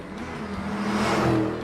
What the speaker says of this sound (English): He jumped into his car and sped off on a predetermined route.